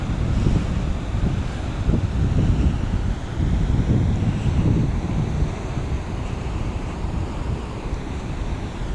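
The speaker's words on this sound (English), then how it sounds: "Big waves over there, and this is calm as well" Big ocean waves surging and wind gusting at a calm bay on the Catlins coast of New Zealand, a steady loud roar of surf with buffeting wind against the microphone throughout.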